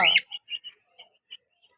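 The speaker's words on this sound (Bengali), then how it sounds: "এরপরে হচ্ছে আমার প্রিয় পাখি ককাটেল" A cockatiel gives a short sharp call followed by a few faint, scattered chirps, close by.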